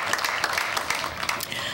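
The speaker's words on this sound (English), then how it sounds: "they deserve a round of applause too" An audience at a civic ceremony breaks into a full round of applause for city staff liaisons, many hands clapping in a dense, even wash that carries on without talk.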